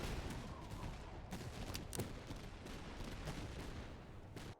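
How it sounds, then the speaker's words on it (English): Gunfire and a grenade blast in the video game Master of Command, heard as dense continuous battle noise with scattered sharp shots and cracks throughout. "See if we can throw a grenade up here."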